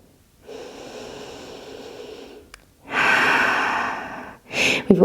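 Slow, audible breaths during a yoga session: a long soft exhale, then a stronger, louder breath, ending with a short sharp sniff-like inhale, close and alone without talk.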